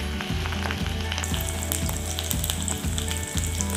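Green chili and curry leaves frying in hot oil for a dry fish sambol, a steady close sizzle with a regular low rhythmic thumping running underneath throughout.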